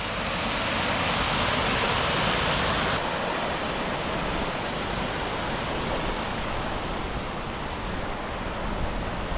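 Constant rushing river water flows close by at a mountain campsite on Polonyna Hadzhyna, a loud unbroken roar with no voices, slightly softening partway through.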